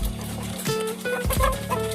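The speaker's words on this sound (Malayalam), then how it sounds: "ഈജിപ്തിലെ നാടൻ കോഴിയായ ഫയോമി എന്ന് പറയുന്നതായ കോഴിയാണ്" Fayoumi chickens cluck and call nearby in a busy flock, with overlapping clucks and short squawks over a steady background hum.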